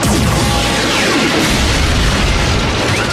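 Animated Transformers Prime battle with weapons firing and explosions, a loud, dense, continuous barrage of booms and blasts with crashing debris and sweeping energy-weapon tones, no voices.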